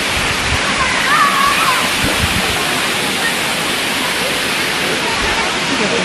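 Waterfall at Curug Cibeureum in Sukamakmur, Bogor, roaring in a loud, steady, close rush of falling water, with voices heard over it.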